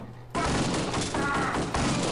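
Sustained gunfire from the video game Kingpin: Life of Crime, a dense, loud burst of rapid shots that starts abruptly and continues without pause, with a brief dip before another surge.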